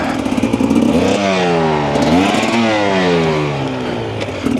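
A 2025 Husqvarna TE300 dirt bike ridden through mud, its two-stroke engine loud and close, revving up and down in repeated surges with clattering underneath and no talking.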